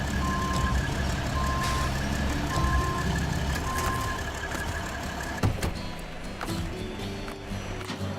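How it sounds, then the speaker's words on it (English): A truck idles with its engine running in a video game while steady evenly spaced reversing beeps repeat four times. A loud knock or thud follows, then the engine rumbles on under background noise. "I knew I heard his engine on."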